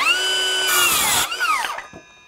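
A Milwaukee M18 FUEL 6-1/2 inch cordless circular saw whines up loudly at close range and rips through a piece of wood in a burst of about half a second, then the blade's whine falls away as it spins down to silence.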